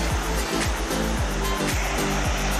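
Cachoeira das Ostras, a remote, hard-to-reach waterfall in overcast weather, roars as a steady, loud broadband rush of falling water, with wind and faint repeated low thumps underneath and no talking.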